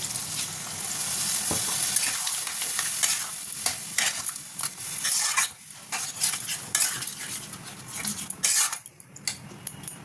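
A spice mixture sautés and sizzles in a pan while a utensil stirs and scrapes steadily, with frequent metallic clinks over a continuous frying hiss, close and fairly loud throughout.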